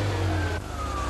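A Ferrari 348's fuel-injected engine catches at once and runs, a loud, close, steady mechanical roar over about a second with no voices.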